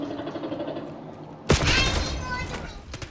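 Call of Duty gunfire erupts halfway through as a sudden loud burst of rapid shots, following a quieter stretch of game sound and player chatter.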